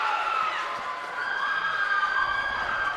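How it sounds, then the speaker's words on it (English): A crowd at a college cheerleading semi-final between Frostburg State and Glenville State roars and cheers in a dense, continuous wash of voices with shouts rising through it. "Boy, that got the crowd jumping here"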